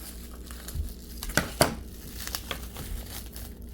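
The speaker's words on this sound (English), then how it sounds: "Let's try scissors here." Crinkly plastic packaging, apparently seaweed snack packaging, rustles and crackles up close, with a few sharp snips and crunches as scissors cut it.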